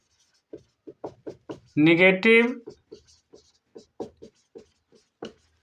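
Chalk or marker writing on a board in a classroom lesson, a sequence of short distinct scratching strokes in irregular rhythm, close and clear, with a brief burst of someone speaking in the middle.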